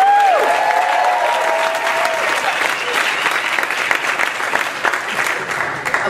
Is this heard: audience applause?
yes